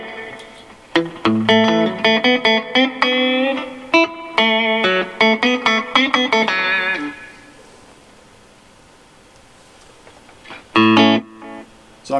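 Fender Jazzmaster guitar in middle pickup position played through a Monoprice Stage Right 5W valve combo amp, a loud run of picked notes and chords with effects, decaying into a ringing tail, then a short final strum.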